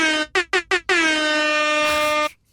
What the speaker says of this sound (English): it's a DJ air horn